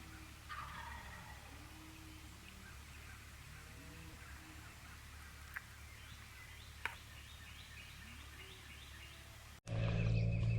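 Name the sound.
wild turkey gobbling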